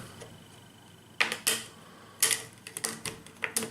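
Action cards from a board game are shuffled by hand on a table, giving crisp, close riffling and clacking bursts in quick uneven clusters against a quiet background.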